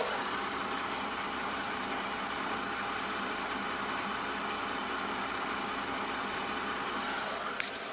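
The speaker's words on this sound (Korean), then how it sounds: "일단 이 차량 바로 엔진 소리 한번 들려드릴게요" A Mercedes-Benz E300 with a 3500cc V6 idles at a used car lot, giving a quiet, smooth, even engine hum that stays steady throughout, with one tiny tick near the end.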